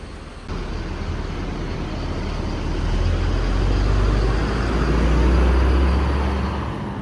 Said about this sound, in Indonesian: Bus melanjutkan perjalanan menuju ke tujuan akhir, yaitu di daerah Bubulak Bogor.